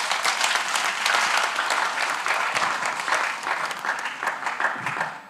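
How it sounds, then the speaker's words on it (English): An audience at an agritech pitch competition final gives presenters a sustained round of applause, a dense steady clatter of many hands clapping throughout. "You all deserve to give yourself a round of applause."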